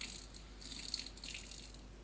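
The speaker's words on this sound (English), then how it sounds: "Rinse with clear water." Clear water runs and trickles from a tap while a cannula is rinsed after soaking in disinfectant, a soft steady hiss with a few faint splashes, quiet and close, with no voices.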